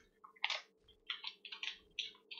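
A crunchy granola bar is chewed close by, with irregular bursts of crisp crunching separated by short pauses, quiet over a low background hum.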